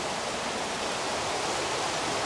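Steady rushing water of a flowing stream in Hallstatt, Austria, on a rainy day, a continuous broadband wash close by with no voices.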